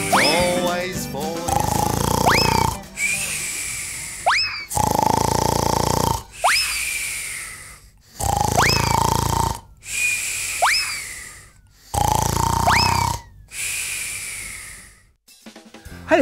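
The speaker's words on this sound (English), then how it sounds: "Can you hear that snoring?" Cartoonish snoring from a sleeping man in a children's TV special, loud repeated snore cycles with whistling rises, about seven evenly spaced rounds over a steady rhythm.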